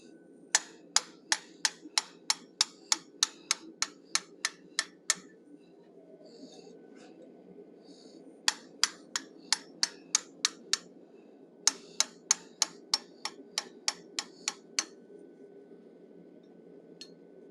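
A hammer strikes a 1/8 inch fuller while forging an animal head, producing sharp ringing metallic taps in steady rhythmic runs, separated by short quiet pauses, clear and close.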